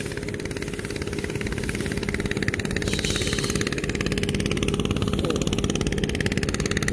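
A rice combine harvester works a family paddy field, its engine running as a steady, loud, continuous rumble with a rapid mechanical clatter throughout, no pauses.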